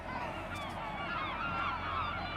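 A flock of birds, apparently geese, calling noisily after taking off near a bridge by a railway station, a dense continuous honking chatter at moderate distance with no talking.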